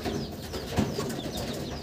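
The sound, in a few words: Ablook bloodline pigeons cooing in the loft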